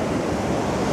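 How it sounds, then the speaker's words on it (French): Water lapping and splashing outdoors at the water's edge, with gusting wind buffeting the microphone in a continuous close, loud roar and no speech. "quoique le bruit de l'eau en général, c'est sympa"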